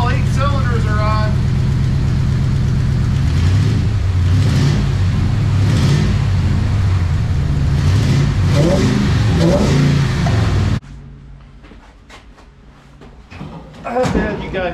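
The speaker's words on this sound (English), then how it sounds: "It seems like all 8 cylinders are on." A V8 car engine runs loud and close, rising and falling through several revs with voices over it, before cutting out abruptly near the end.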